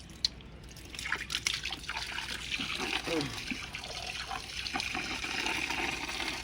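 Water overflowing the rim of a tub holding lotus plants, a soft continuous trickle and splash that grows slightly fuller over time, with a quiet voice speaking nearby.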